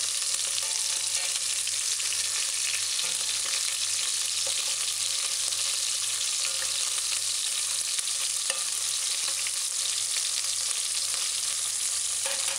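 Continuous loud sizzling and crackling of chicken frying in a pan, steady and close with occasional pops.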